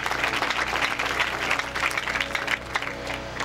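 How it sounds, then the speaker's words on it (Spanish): Loud, close applause from an audience honoring a couple at a community celebration, continuous brisk clapping over a low steady hum, with no speech. "fuerte aplauso, hermanos, por favor"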